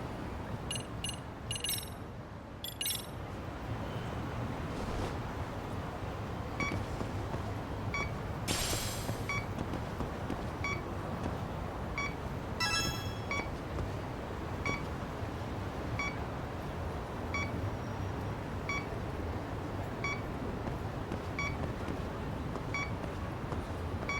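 Electronic proximity beeps from a detector in the video game Lost Judgment, short bright chirps repeating at irregular intervals with some clustered bursts, heard over a low steady game background hum.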